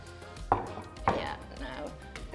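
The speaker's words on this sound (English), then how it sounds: "You just slice them through." A knife slices down through mozzarella onto a chopping board twice, soft thuds close by with faint kitchen background.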